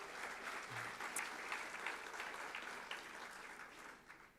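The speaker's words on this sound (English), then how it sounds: "So big applause to Susie" Audience applause at a diversity breakfast event, a steady, fairly distant wash of many hands clapping that holds evenly and tapers slightly at the end.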